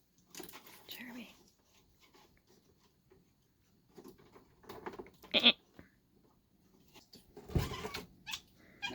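House cats meow indoors a few times, short drawn-out cries that come and go between quieter stretches, with some faint voices and household noise around them.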